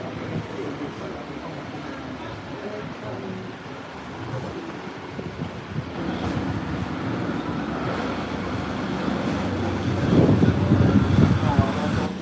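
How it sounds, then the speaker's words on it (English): Jet engines of a Brazilian-built airliner spool up and roar during takeoff, a broad rumble that builds steadily and grows loudest near the end, with faint talk underneath. "Can hear those Brazilian engines."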